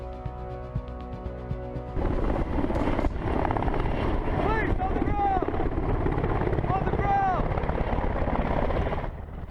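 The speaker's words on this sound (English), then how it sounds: "Helicopters and drones are also used to conduct surveillance and track boats from the air." Helicopter flying overhead on coast guard surveillance of boats, a steady rotor drone with whining tones that rises to a loud, sustained roar after a quieter start, with talk running over it.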